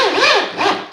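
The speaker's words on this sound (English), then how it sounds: "If you have the right drill, it'll sink them in just below the surface" A power drill countersinks screws into wood during stool building, giving two short, close whirring bursts as each screw bites in, alone without talk.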